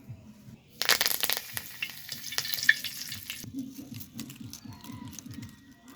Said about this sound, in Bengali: এবার গরম তেলে কারি পাতাটা ওইভাবে ভেজে নিব